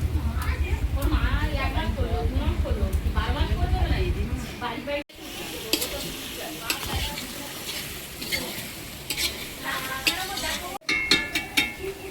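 Chicken goes into a hot pan with chili powder and sizzles steadily as it is stirred, spatula scrapes and clatter on top of the frying hiss, while a person talks over much of it.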